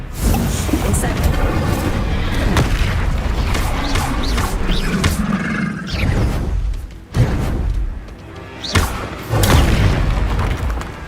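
Spells such as fire and blasting charms are cast in rapid succession during Hogwarts Legacy combat, loud booms, crashes and whooshes tumbling over one another amid game clatter, with a voice shouting throughout.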